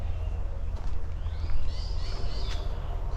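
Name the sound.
bird calls at a bird sanctuary in Colombia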